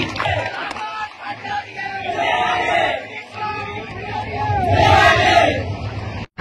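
A crowd of college students at a taluka-level pre-university sports meet cheers and shouts in a loud, sustained roar that swells toward the end, with yelling mixed into the din.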